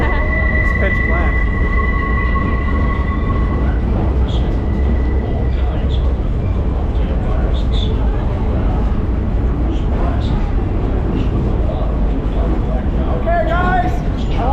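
A continuous rumble inside a train car running through a pitch-black tunnel near the Grand Canyon, with steady wheel and track noise and passengers murmuring throughout.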